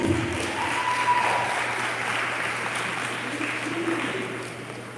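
A live audience at an awards dinner claps steadily for a few seconds, a continuous even wash of applause with no voices over it.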